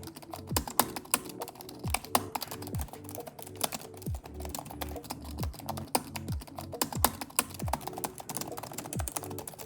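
Steady typing on a Lenovo IdeaPad Slim 3i laptop keyboard nearby, quick irregular key clicks in bursts with small pauses, fairly quiet and with no talking.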